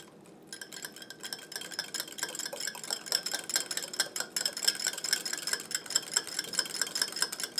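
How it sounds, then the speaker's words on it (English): A whisk beats a smoked Spanish paprika and salt mixture in a bowl, quick rapid clicking and scraping strokes that start after a brief pause and continue briskly and close. "All right, whisk."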